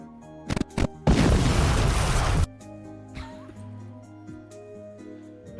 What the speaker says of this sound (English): We're choosing the sound effect for the explosion.